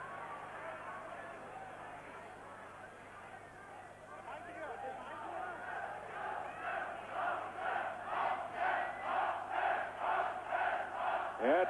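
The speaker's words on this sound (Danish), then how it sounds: "Ja, der er stemning på tilskuerpladserne her." Handball spectators in the stands at a 1984 IHF Cup match, chanting and cheering in a steady rhythmic swell that grows louder over the clip, with a commentator talking over it.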